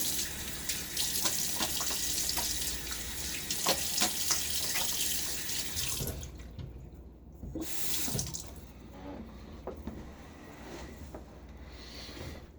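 A sink faucet runs close by, water splashing and rushing into a basin during a wet shave with a Gillette President razor, steady for several seconds and then quieter with light rubbing.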